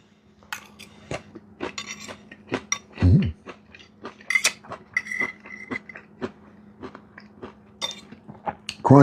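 Someone chews crunchy homemade coleslaw, with sharp irregular crunches and bites scattered among clinks of cutlery and dishes, close and fairly loud, with no talking.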